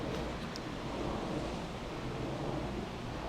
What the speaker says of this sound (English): because the wind is so strong, the wind turbines above us are making a fair bit of racket